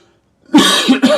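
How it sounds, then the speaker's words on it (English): A person coughs sharply, close to the microphone, in two quick bursts with a throaty, rasping edge. "Sorry, this is going to happen a lot with this coughing."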